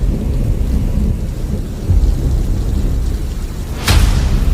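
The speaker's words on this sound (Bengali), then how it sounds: "ঝড়, বৃষ্টি, বিদ্যুৎ" Animated thunderstorm scene for a Bengali village horror cartoon: steady loud rain roars throughout, with a sharp thunder crack near the end and rumbling swells, no voices.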